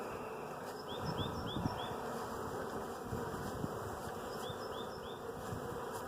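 Honey bees buzz in a steady, dense drone while being handled, holding close and even throughout with faint higher chirps now and then.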